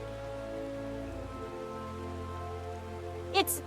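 Rain falls in Final Fantasy XIV played in VR, a soft continuous patter beneath steady tonal game music, interrupted near the end by a brief sharp burst.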